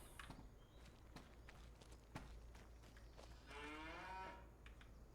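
Cattle on a farm moo in a long, harmonic call late in the stretch, with scattered footsteps and steady low background rumble before it.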